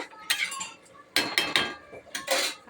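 A metal lid is set onto a pot of meat curry, giving several light clinks and clanks in short clusters, close by and fairly crisp.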